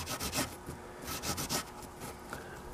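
A piece of Scotch-Brite wet with brake cleaner rubs lightly over a motor brush from an antique Century repulsion-start induction electric motor, giving soft, close, rhythmic scrubbing strokes.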